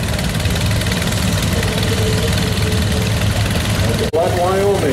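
A 1952 John Deere M tractor runs steadily in a tractor parade at a steam and gas show, its engine a continuous close rumble throughout, with a voice briefly audible near the end.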